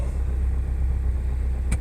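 A car engine runs after a cold start in winter, a steady, close, low idling rumble that holds even throughout, with no talking.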